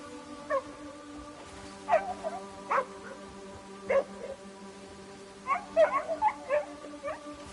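A dog in the video game Crimson Desert barks and yips in short bursts, some single and some in quick clusters, over a steady low game soundtrack drone.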